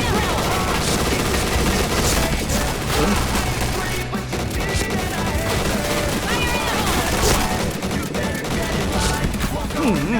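Rapid gunfire bursts and explosions from a shooting video game, steady and loud throughout, with dense overlapping shots and game effects layered over each other.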